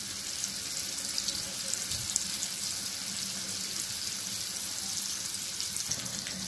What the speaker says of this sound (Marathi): आपलं पीठ लावलेले मच्छी तेलामध्ये सोडूया. डीप फ्राय करायचे आपल्याला.